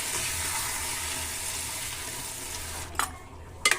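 Rajma with ketchup is stirred in a hot pan, making a steady bubbling sizzle that thins out near the end, broken by a couple of sharp utensil clanks against the pan.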